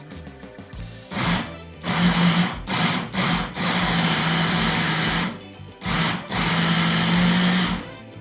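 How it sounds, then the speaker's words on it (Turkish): A kitchen food processor whirs in repeated pulses while chopping meatless çiğ köfte ingredients, short bursts followed by longer steady loud runs with brief pauses between them. "Robottan çekelim."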